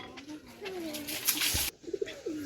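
Pakistani high-flying pigeons coo close by in a short series of soft, rolling calls over low background noise.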